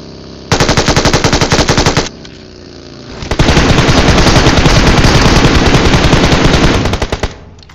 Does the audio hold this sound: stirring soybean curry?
no